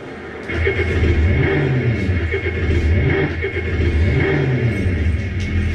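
A car engine starts and revs with a loud, steady low rumble that rises and falls in repeated surges, close by and filling the whole stretch.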